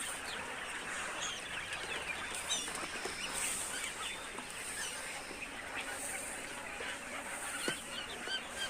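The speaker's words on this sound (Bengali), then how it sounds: "হচ্ছে আমার কোয়েল পাখির খামার।" Quail calls from a backyard quail farm in a rural Bangladeshi village, a dense, steady chorus of many small birds chirping and clucking at close range, continuous throughout with no talking.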